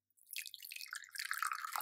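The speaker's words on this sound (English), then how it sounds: "and then proceed to pour a cup of tea," Tea pours steadily into a cup, a close trickling splash that builds and fills for a couple of seconds.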